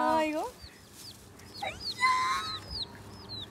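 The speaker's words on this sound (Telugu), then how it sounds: "ఏం లేదు కోడి పిల్లలు" Chicks clucking and squawking close by, several short calls in quick succession, with a person talking briefly at the start.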